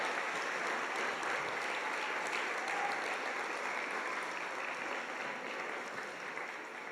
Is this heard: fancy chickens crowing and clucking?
no